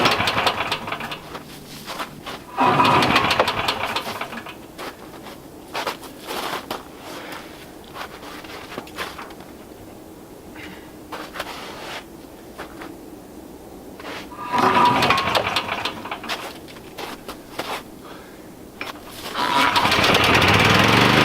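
An old engine being prepared for installation is cranked over in three separate loud bursts of churning engine noise, with quieter mechanical fiddling in between.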